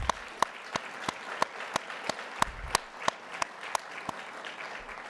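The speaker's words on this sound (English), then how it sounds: "Can we give her another round of applause?" A few people clap at a graduation ceremony, sparse distinct claps at a slightly uneven rhythm over a quiet room, fairly faint.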